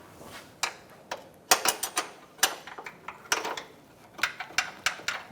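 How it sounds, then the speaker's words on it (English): An 18mm wrench works a bolt's nut on a 2013-2022 Buick Encore's control arm, giving a run of sharp metallic ratcheting clicks and clanks, close and irregular, with no one talking. "We're going to use an 18mm wrench on the nut side."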